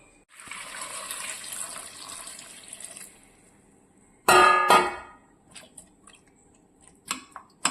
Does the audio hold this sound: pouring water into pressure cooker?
yes